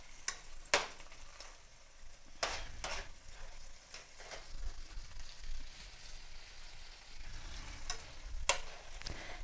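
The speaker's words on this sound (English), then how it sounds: "all you're trying to do is saute the spinach with the onions" Spinach and onions sauté in a pan with a low, quiet sizzle and a few sharp clinks of a utensil against the pan.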